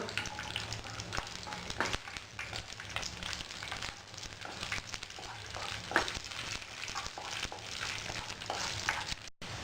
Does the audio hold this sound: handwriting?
no